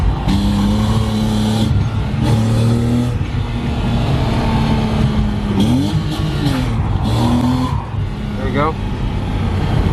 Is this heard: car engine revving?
yes